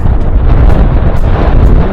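Strong wind roars steadily across the microphone beside a lake in the Auvergne mountains, a loud continuous buffeting rumble with no pauses and no voices.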